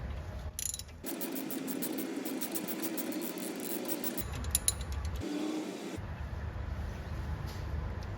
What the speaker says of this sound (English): we'll start with removing these 17mm caliper bolts